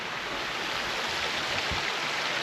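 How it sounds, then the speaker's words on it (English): A river in Guam near San Carlos Falls flows with a continuous, close rushing wash of water, steady throughout with no voices. "But as you can see, I'm now in the river"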